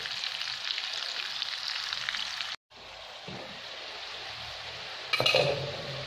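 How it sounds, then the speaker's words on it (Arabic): Seasoned chicken pieces sizzle in hot oil in a frying pan, a steady bright crackle that briefly stops, then resumes with a louder burst of spattering and a clink of utensils as more is added. "راح نضيفو للمقله اللي راني نقلي فيها"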